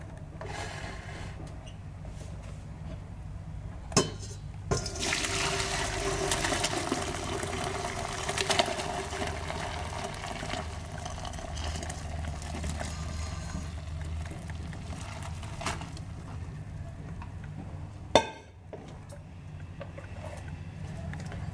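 Hot water from blanched spinach pouring through a strainer, a steady rushing drain lasting well over ten seconds, with a couple of clanks from the pot and strainer.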